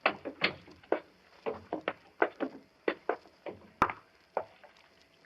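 A door closing in an old radio suspense drama, with a series of soft knocks and shuffles, a faint scrape and one sharp thud near the end, heard alone without talk.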